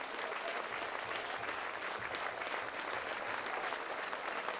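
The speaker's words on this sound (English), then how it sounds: "And he's getting a standing ovation from this crowd here." A large crowd at a sports awards presentation before a final game gives a standing ovation, a dense, steady wash of clapping that holds evenly and fairly loud the whole time.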